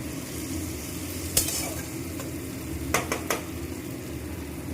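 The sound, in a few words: onions frying in oil for fish curry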